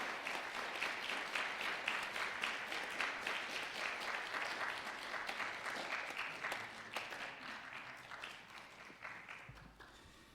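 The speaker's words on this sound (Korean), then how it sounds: "박수해 주십시오" A church congregation applauds steadily during a flower bouquet presentation at a Sunday service, a dense sustained round of clapping that carries on evenly and then tapers at the end.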